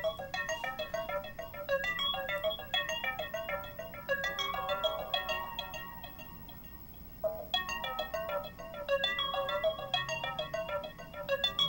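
Arpeggiator pattern playing in Reason 4 software: a rapid, bright, repeating run of synth notes with steady rhythm, briefly pausing and changing as the gate length is adjusted, at moderate level with no talking.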